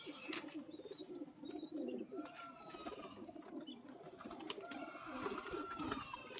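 Pigeons kept for sale coo in soft, repeated rolling calls nearby, with occasional sharper chirps and light rustling scattered through.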